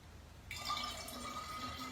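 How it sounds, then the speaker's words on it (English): Container being filled with water from a tap: a sudden hissing pour starts and continues steadily with a rising liquid tone, close and fairly quiet, with no voices. "just fill it with water"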